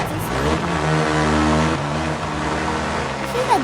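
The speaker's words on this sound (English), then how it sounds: "This is a good bike. That was a motorbike." A motorbike engine from a motocross video game drones and revs continuously at close range, its pitch shifting as the throttle rises and eases.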